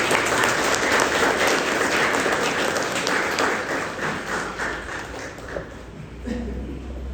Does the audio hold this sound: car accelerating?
no